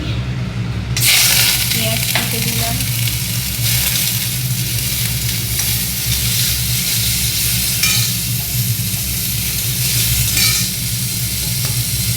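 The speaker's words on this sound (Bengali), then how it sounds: "আমি ম্যাগিটাকে এইভাবে রান্না করবো ম্যাগি ভাজা করবো ম্যাগি" Continuous loud sizzling of Maggi noodles frying in a pan, with occasional stirring scrapes over the steady hiss.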